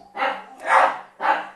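Several dogs bark in three loud, close bursts, roused by a cat walking along a wall.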